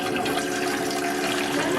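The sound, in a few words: pouring water into bowl for chicken pakora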